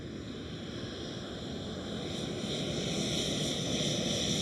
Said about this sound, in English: KLM 737 taking off on runway 18 left